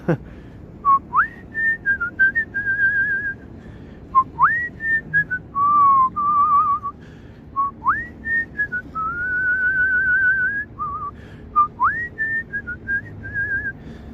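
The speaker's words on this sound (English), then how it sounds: "Hopefully my whistling doesn't get me a copyright claim." A person whistles a tune close by outdoors in Toronto's city centre on a cold evening, clear bright notes in short phrases with gliding rises and a few held tones, over faint background noise.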